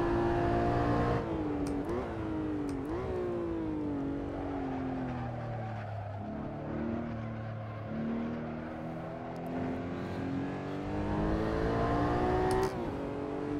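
Porsche Cayman GT4 engine in the Assetto Corsa racing sim, loud and steady throughout, with rising and falling revs through gear changes and a brief dip mid-lap before climbing again.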